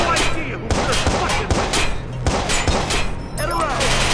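Rapid bursts of gunfire in the video game Watch Dogs, loud and close, with repeated sharp shots in uneven volleys and a voice speaking briefly among them.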